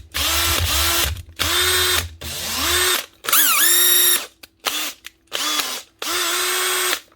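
Repaired Makita corded power drill with new brushes running in repeated bursts, its motor whine spinning up and stopping several times with short gaps and pitch sweeps, loud and close, with no talking.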